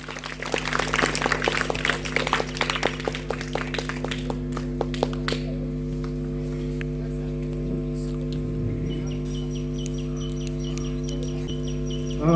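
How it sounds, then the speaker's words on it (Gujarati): Guests at a school ceremony applaud in a brief burst of clapping that fades after a few seconds, followed by a steady electrical hum in the hall. "તાળીઓના ગળગળાથી વધાવીએ આપણે."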